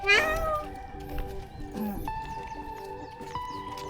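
Cat meowing near a vehicle before a ride, one loud drawn-out meow at the start followed by quieter cries over steady engine-like background hum.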